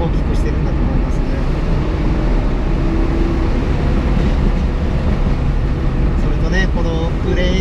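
A 1974 Porsche 911 S engine droning steadily from inside the car while driving, a continuous low mechanical hum with road noise, and a few brief sounds near the end.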